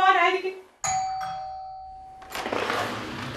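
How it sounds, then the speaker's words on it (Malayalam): A two-tone doorbell chime rings once in a home, its clear notes sustaining for over a second after a voice, followed by a louder burst of rustling noise. "ആരാ ഡോർ ബെൽ അടിച്ചൊന്ന് നോക്കിയേ."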